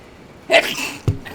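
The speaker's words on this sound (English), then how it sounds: "As I sneeze my headset off." A single sharp sneeze bursts out close to a headset microphone during a Black Mesa gameplay session, followed a moment later by a brief thump.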